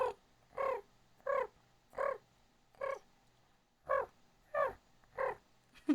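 A human voice imitates a pigeon with about nine short, hoarse, cawing calls at a steady, slightly uneven pace, each call separated by near silence.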